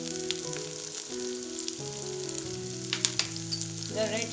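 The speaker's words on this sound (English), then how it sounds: "I'll saute them well" Vegetables seasoned with salt, red chili powder, pepper and oregano sizzle and fry in a pan for a Mexican burrito bowl, a steady close crackle that runs the whole time alongside sustained tonal background sounds.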